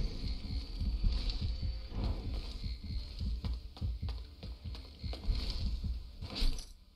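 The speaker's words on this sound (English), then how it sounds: "It's weird that the heart is beating." A heart beats in the video game Shadows: Awakening, a steady low thumping pulse heard under ambient game hum and scattered clicks, fairly faint throughout.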